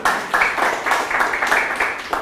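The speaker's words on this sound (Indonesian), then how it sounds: "tepuk tangan buat Commodity Cafe ya" Applause for a cafe at an Indonesian business event, with clapping in uneven bursts of a few hands that rise and fall, fairly close and loud.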